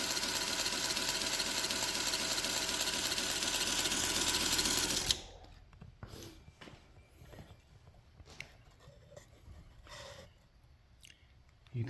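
A 1X42/2X42 inch knife sharpening belt grinder motor runs loud and steady for about five seconds, then cuts off, leaving faint mechanical ticks and clicks.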